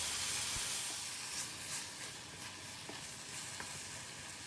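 Onions and clams sautéing in a pan, a steady frying sizzle and hiss with faint stirring clatter throughout, close and fairly quiet, no talking.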